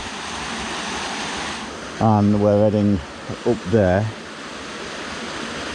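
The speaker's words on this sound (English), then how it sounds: "The first waterfall" Steady rushing water from a waterfall beside a mountain path on the Pavey Ark fells, a constant broadband roar heard throughout, with a person speaking briefly over it midway.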